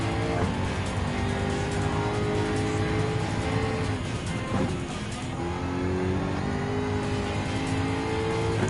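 Steady engine roar from a Jaguar F-Type Group 4 race car in Gran Turismo 7 at Brands Hatch Grand Prix, loud and continuous, with rising and falling gear-change tones as it accelerates through the whole stretch.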